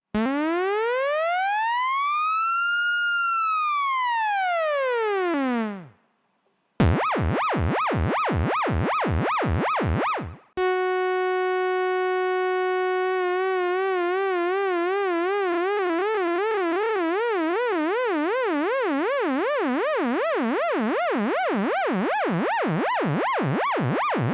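A buzzy synth tone from a Stylophone Gen R-8 with LFO sweeps up and down slowly, breaks off, then warbles in fast pulses, and finally holds a steady note that wobbles faster and faster.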